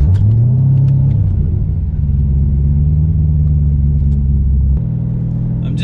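LS3 V8-swapped Saturn Sky accelerating on a highway during break-in, a loud steady low engine drone that climbs in pitch over the first second, holds, then drops to a deeper note near the end, with no talking.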